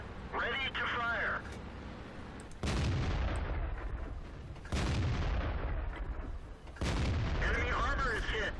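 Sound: tank cannon firing in World of Tanks video game

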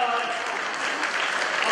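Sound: audience applause

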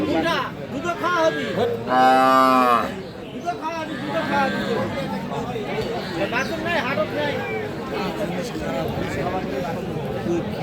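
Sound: Sahiwal cow with calf mooing

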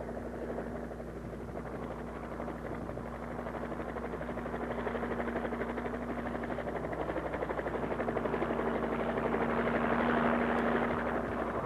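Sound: helicopter lifting a load and taking off

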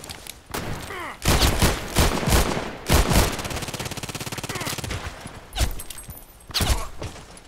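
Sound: gunshots from Python revolver in video game Contract Wars

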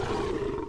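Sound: saber-tooth tiger roar in video game Conan Exiles

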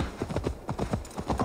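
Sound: skeleton demon horse hooves, video game Assassin's Creed Valhalla

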